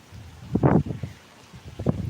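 Strong wind gusts through swaying coconut trees outdoors, coming in rough, rushing bursts of buffeting noise with brief lulls between.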